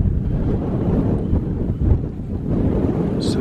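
Strong wind buffets a wild camp high in the mountains of Snowdonia's Carneddau, a steady, loud roar with gusty swells and microphone rumble that continues without pause and with no talk.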